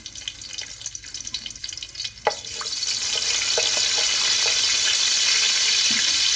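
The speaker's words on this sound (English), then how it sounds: "Now we will add cumin seeds in it and let it cook a little." Cumin seeds sizzling in a cup of hot oil for chana pulao: a few scattered taps, then a dense, steady frying hiss that swells and holds without any talk.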